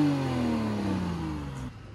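A Porsche 987 Cayman engine with stock exhaust winds down from a rev, its drone falling steadily in pitch over a couple of seconds, moderately loud and close.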